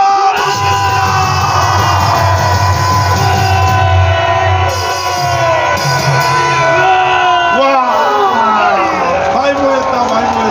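At a political rally, a large crowd cheers, whoops and shouts in a standing ovation for a pastor. The loud, dense roar of voices carries on throughout, with individual shouts rising above it.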